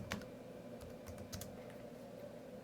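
A computer keyboard clacks steadily as a terminal command is typed on a Pop! OS Linux machine, with irregular quick keystrokes, close and fairly quiet, no voice.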